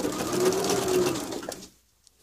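Sewing machine stitching bias binding onto fabric at a mitered corner, a fairly loud steady whirring run that stops abruptly near the end, leaving quiet.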